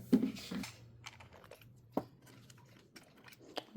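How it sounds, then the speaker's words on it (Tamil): A small keyboard-cleaning brush scrubs and taps between computer keyboard keys, making scattered soft clicks and brushing scrapes at close range with quiet gaps between them. "இது ரெண்டுமே வந்து கீபோர்ட் ப்ரஷ்ஷு. கீபோர்டோட அந்த கீஸ்க்கு இடையில இருக்கிறத வந்து க்ளீன் பண்ணுறதுக்கு."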